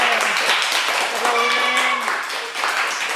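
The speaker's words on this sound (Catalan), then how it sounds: "Aplaudiment" Applause for a child's clarinet presentation, steady close clapping from a small audience lasting a few seconds, with a voice speaking briefly over it.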